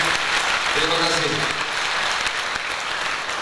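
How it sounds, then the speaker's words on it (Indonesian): Church congregation applauding in Sabah after a testimony, a dense steady clapping that fills the room and continues throughout, with a voice briefly audible over it. "Kita berikan tepuk tangan untuk Tuhan, untuk kemuliaan Tuhan."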